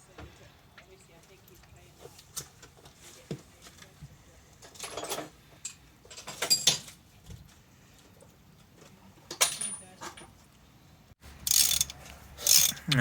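A socket wrench ratchets on a spark plug of a JDM Mazda MX5 Miata, giving short, close bursts of clicking at irregular intervals, with some talk in the background.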